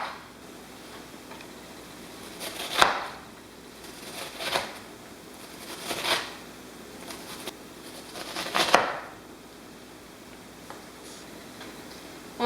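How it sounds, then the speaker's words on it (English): A knife chopping an onion into tiny pieces on a board, heard as four or five separate bursts of quick, soft cutting taps spaced a second or two apart, fairly quiet with low room noise between them. "Cutting up our onion like we always do."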